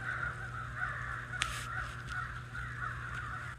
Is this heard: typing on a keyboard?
no